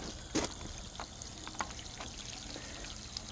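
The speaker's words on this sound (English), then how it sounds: "Let me turn the water flow down." Water runs through a homemade tankless water heater with a steady, faint trickling stream. A few small splashy pulses punctuate the flow, and there is no talk.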